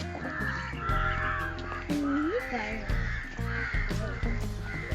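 Crows caw repeatedly in short harsh bursts over a steady background hum, with a voice speaking briefly among the calls, in a garden at a beach resort in Marari, Alappuzha.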